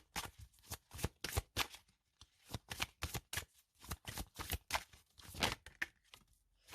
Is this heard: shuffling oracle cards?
yes